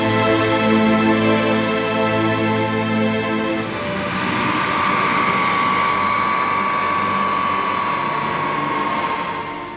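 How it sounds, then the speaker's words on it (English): An Indian Air Force transport aircraft in flight gives off a loud, steady engine drone with rising whine tones, continuous and close throughout, with no voices. "the transport fleet of the Indian Air Force flies around the clock, operating a variety of aircraft optimized for extreme environments"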